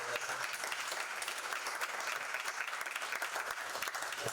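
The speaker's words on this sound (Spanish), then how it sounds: "yo pido un aplauso para esta primera ronda de respuestas" An audience at an environmental damage assessment and biodiversity talk claps steadily throughout, a dense even patter of many hands heard from within the room, with no voice over it.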